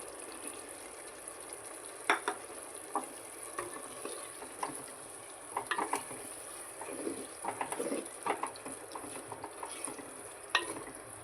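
Masala stirred in hot oil for egg biryani, with mint leaves added: soft sizzling under repeated close scraping strokes of a spoon in the pan, with irregular clicks and rustles.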